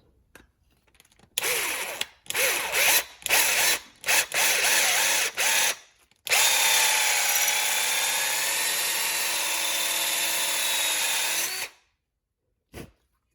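A power drill runs a bit through Quadrajet carburetor throttle shaft bushings, whirring in several short bursts, then running steadily for about five seconds before stopping, with a high mechanical whine.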